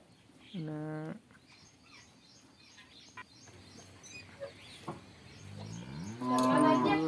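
Cattle low inside a farm shed on a green farm: one loud, sustained moo near the start, then quieter shuffling and stirring, and a second long moo building at the end.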